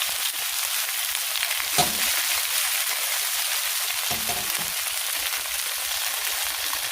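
Tofu and egg pan-frying with garlic and ginger added, a steady close sizzle filling the clip with a brief louder crackle near the two-second mark, no talking.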